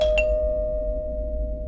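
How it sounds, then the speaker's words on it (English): A doorbell chimes once at close range, a bright ding that rings out and fades slowly over a low background hum. "I was awoken that night, not even an hour later, to the doorbell ringing twice"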